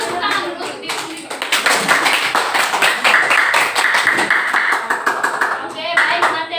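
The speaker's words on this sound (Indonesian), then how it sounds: "Silakan tepuk tangan dulu untuk diri sendiri." Students applauding themselves in a math class, a sustained round of brisk, close hand claps that starts softly, builds and continues with scattered voices.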